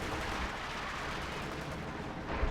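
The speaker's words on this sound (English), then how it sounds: "Lots of artillery going out from the Zis guns." Artillery fire from ZiS guns in Company of Heroes 2 forms a dense, continuous rumbling barrage, loud and unbroken, with one sharper thump near the end.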